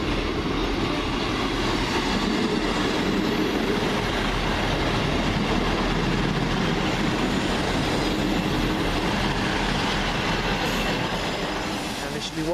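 A Class 158 diesel train passes close by in a continuous loud rumble of engine and rolling wheels with faint rail squeal, holding steady throughout.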